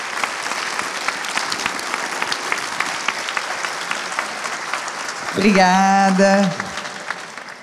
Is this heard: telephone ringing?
no